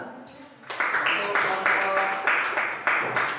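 A classroom audience claps for group 2 in a steady, patterned rhythm of repeated beats, fairly close and continuing to the end.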